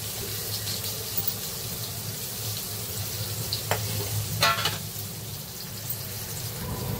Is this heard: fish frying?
yes